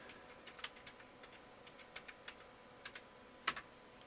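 Someone types a password on a computer keyboard during a Linux install on an old PC, with quiet, irregular key clicks in short bursts and one sharper keystroke near the end, heard alone at low level.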